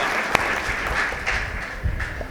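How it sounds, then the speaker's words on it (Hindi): Steady, dense applause from a crowd at a poetry recital, continuous and fairly loud for the whole moment, with a few sharper claps standing out. "एक बार तालियां बजाइए जोरदार"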